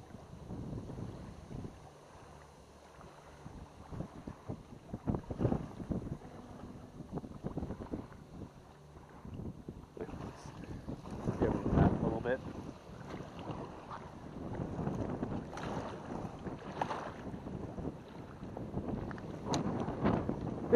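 Wind gusts and buffets the microphone outdoors beside water while small-scale micro fishing with a worm and bobber, a steady rough rumble that swells around the middle and again toward the end, with some faint talk.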